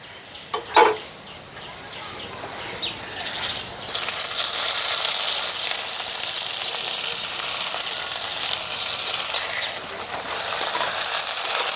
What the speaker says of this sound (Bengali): রসুনটা একটু ভাজা ভাজা করে নিলাম। দিয়ে দেবো পেঁয়াজ কুচি